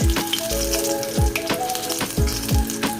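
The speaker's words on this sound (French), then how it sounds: "les petites boulettes de poulet attendent de passer à la friture" Chicken meatballs crackle and sizzle loudly in hot oil, with a rhythmic series of low thumps and bright pops as they are turned in the pan.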